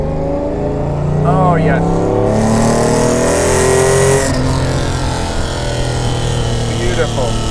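A Mercedes-Benz 300 SL Gullwing powers out of bends after a double-declutched downshift to second, its engine revving loud and close in rising, sweeping pulls, with a man's brief exclamations over it.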